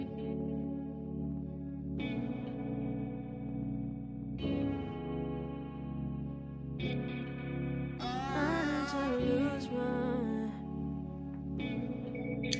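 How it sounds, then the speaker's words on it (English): A K-pop music track plays with heavy reverb and echo on its vocals and synths, in repeated phrases separated by brief cuts, with a denser washed-out section partway through. "Is that reverb?"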